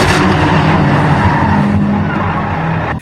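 A truck drives and skids in a low-budget horror film, a loud, steady roar of engine and tire noise throughout that cuts off sharply at the end.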